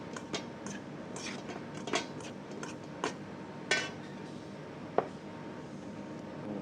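Chicken mixed with salt in a bowl, heard as a series of light, irregular clinks and taps of utensil against dish, separated by quiet pauses, with no voices.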